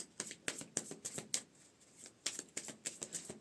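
A deck of cards is shuffled repeatedly for a tarot-style card reading, giving crisp, rhythmic riffling bursts at close range with short pauses between them.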